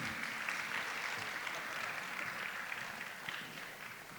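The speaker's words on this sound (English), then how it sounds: "Please give them a round of applause." Steady audience applause fills a youth business awards ceremony in KwaZulu-Natal, a dense, even wash of clapping that holds for several seconds as the crowd honours the judges.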